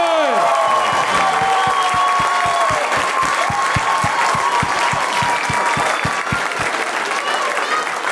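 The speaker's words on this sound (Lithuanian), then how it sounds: "Plojimai Karoliukui!" A game-show studio audience claps for the first-place winner, producing a dense, loud burst of applause that holds steady for several seconds before thinning slightly toward the end.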